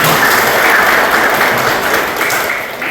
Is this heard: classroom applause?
yes